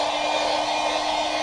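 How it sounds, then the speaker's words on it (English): Steady, continuous blowing hiss of a heat gun pushing hot air onto auto leather during dye repair, close and even throughout with no talking. "we're gonna come in with our hair dryer or our heat gun"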